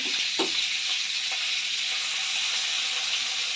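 Prawns frying in a pan over a low gas flame, a steady close sizzle and hiss throughout with a couple of brief louder spits near the start and no talking.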